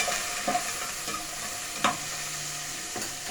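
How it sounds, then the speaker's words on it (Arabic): Chopped onion softens in a frying pan for a shrimp dish, with a constant soft sizzle beneath a few sharp scrapes and knocks of a utensil stirring against the pan. "اسيب بس البصله تدبل يعني مش تحمر، تدبل فقط يعني"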